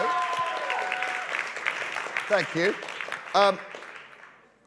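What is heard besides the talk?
applause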